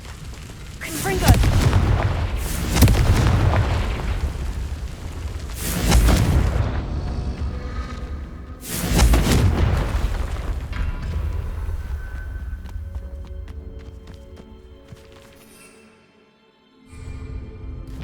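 Confringo spell explosions in the Hogwarts Legacy video game, with four heavy booming blasts at uneven intervals, each swelling and then rolling away, followed by quieter game ambience.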